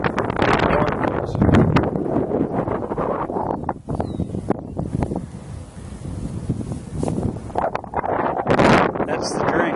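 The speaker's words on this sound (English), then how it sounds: "It's really windy" Strong wind batters the microphone outdoors in a contoured garden, a loud, continuous roaring buffet with gusty swells, while a person talks underneath.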